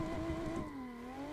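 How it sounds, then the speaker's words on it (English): Engine of a Nissan S14 drift car in the racing game Assetto Corsa, a smooth sustained tone that drops slightly in pitch and then holds, heard alone at moderate volume. "This car sounds very nice."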